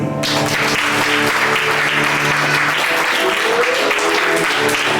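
Steady, dense applause from a church congregation fills the whole stretch, loud and continuous, with a few voices and a faint tone rising beneath the clapping near the end.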